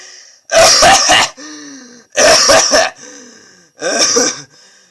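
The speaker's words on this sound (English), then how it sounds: "I have to constantly clear my throat" Three loud, harsh throat-clearing bursts, each about a second long, separated by short pauses with faint hum between them.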